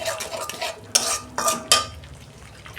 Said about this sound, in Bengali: ততক্ষণ মশলাটা কষানো হোক।